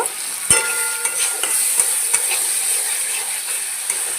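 Spice paste frying in oil and being stirred, with a steady close sizzle and repeated scraping strokes of a spoon against the pan, including one sharp knock near the start, and no voices.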